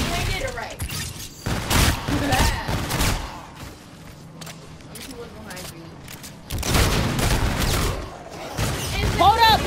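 Bursts of rapid gunfire from Call of Duty Infinite Warfare, loud volleys coming in clusters with a quieter gap between them, with a voice talking over the shooting.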